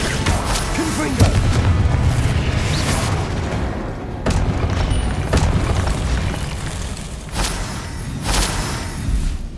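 In Hogwarts Legacy, a Confringo fire spell goes off amid continuous in-game action. Booming blasts with sharp cracks punch through a dense rumbling bed of game sound that runs the whole time.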